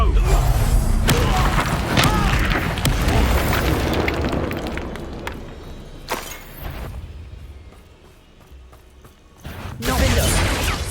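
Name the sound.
Expulso explosion spell in the video game Hogwarts Legacy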